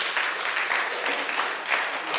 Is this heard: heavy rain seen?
no